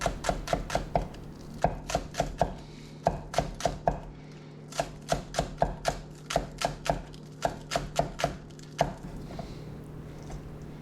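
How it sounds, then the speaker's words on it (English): A knife chops green onion tops into thin slices on a board, a steady run of crisp, close taps in quick bursts with brief pauses between them. "these are the green onion tops, which I put at the very end. And I just cut it into very thin slices."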